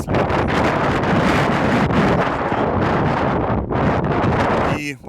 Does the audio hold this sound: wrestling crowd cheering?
no